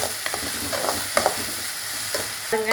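Onions and spices stirred and sautéed in a hot pan for a duck egg fry, a continuous sizzle broken by scraping spatula strokes and a metallic clink near the end.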